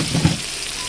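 Spices sizzle and crackle in hot oil in a home kitchen, a close, loud, continuous frying hiss with no voices.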